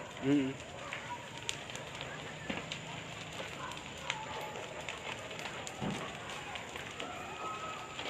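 Crackling and popping of a church and parsonage burning outdoors, with steady rushing noise and scattered snaps throughout, moderately faint.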